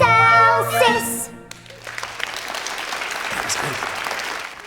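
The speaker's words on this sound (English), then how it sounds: "Impressed, Mr. Poppy claps along, whilst Paul seems to wilt before this displ" An audience applauds at a children's nativity play, the clapping rising right after a sung ending and carrying on steadily and fairly loud, with some voices mixed in.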